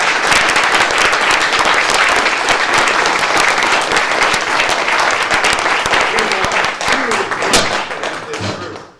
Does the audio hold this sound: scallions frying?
no